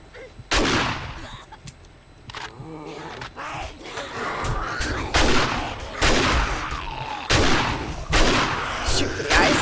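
Repeated bursts of loud gunfire aimed at a zombie horde in 7 Days to Die, sharp shots in uneven clusters across the clip, with gasps and a busy game background between them.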